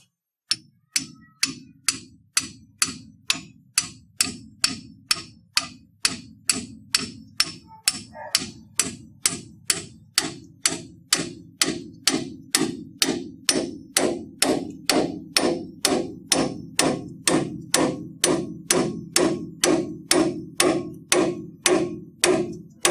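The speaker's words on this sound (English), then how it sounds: "we're going to take a hammer and start beating this thing and driving this thing in" A hammer strikes a tool over and over to pop loose a truck's A-arm ball joint, dozens of sharp metallic clanks in a steady, even rhythm that quickens slightly, loud and close with no talk.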